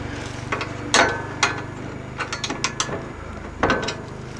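A plow mount on an MTD tractor is tightened with a ratchet, giving short clicking bursts and metallic clunks, close and irregular, several separate ratcheting strokes over a few seconds.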